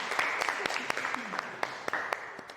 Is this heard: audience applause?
yes